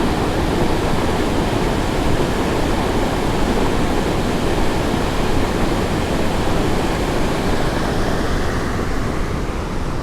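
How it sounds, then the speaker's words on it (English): A powerful waterfall in high water flow roaring continuously, a dense, loud rush of water with no breaks, close by and drowning out everything else. "These falls are incredible."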